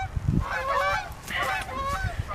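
Several geese honk repeatedly in a loud, nasal chorus, with calls overlapping in short rising bursts close by.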